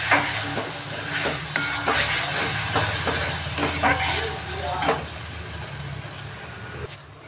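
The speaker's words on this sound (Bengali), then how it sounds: "দেখো মশলাটা ভালো করে কষিয়ে নিচ্ছি।" Spice paste with tomato sauce fries and is stirred in a pan over a medium flame, a steady close sizzle and hiss with scraping stirs throughout.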